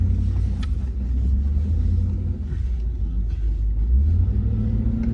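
A car cruises along a wet motorway with a steady low engine and road rumble heard from inside the cabin. The drone is constant and fairly loud, and no one speaks over it.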